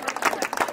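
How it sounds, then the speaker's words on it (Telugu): A short burst of applause for a third-prize winner at a prize announcement, with scattered claps from a gathered audience. "క్లాప్స్ కొట్టాలండి అందరూ పిలిచినట్లే క్లాప్స్ కొట్టాలి"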